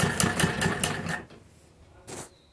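A sewing machine stitches a palazzo in a quick burst of rapid, close mechanical ticking for about a second, then goes quiet before one brief further whir.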